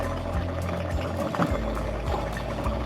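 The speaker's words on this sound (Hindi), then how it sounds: "जो गर्म पानी है ना, वो आप इसमें डालेंगे, थोड़ा सा 1/2 कप या 1 कप" Hot water pours from a cup into beef karahi cooking in a pan, a steady close splashing and sizzling stream that runs without pause and with no talk.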